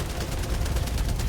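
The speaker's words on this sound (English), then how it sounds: "this turret's gonna frickin' wreck me" Rapid turret gunfire in a video game, a dense fast run of shots throughout, loud and continuous.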